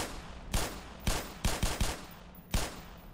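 Six sharp gunshots ring out in Black Mesa as the player shoots at a wall-mounted laser device in the Surface Tension chapter, single and paired shots spaced irregularly, loud and close, with no talking.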